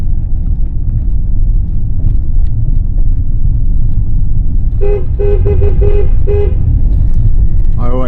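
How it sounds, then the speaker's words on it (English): Horn of a Mercedes C180 blown in a short burst of toots inside a small two-lane tunnel, loud against the steady rumble of the car driving through. "I always enjoy blowing my horn going through the tunnel."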